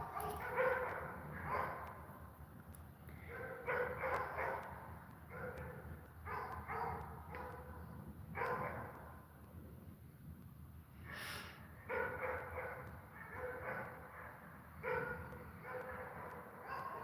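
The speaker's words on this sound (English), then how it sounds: "The lovely sound of the barking dogs." Several dogs bark in scattered bursts, some louder and some farther off, with short pauses between volleys in an outdoor nature setting.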